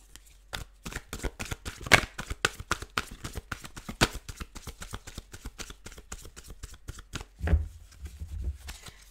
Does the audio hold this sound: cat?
no